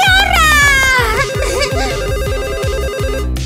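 A mobile phone rings loudly with a bright, repeating electronic ringtone melody, close and continuous, with no talking over it.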